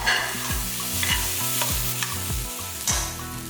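Curry masala with grated coconut sautés in a pan, a continuous close sizzle cut by repeated rhythmic scrapes and stirs of a spoon against the pan, with no talking.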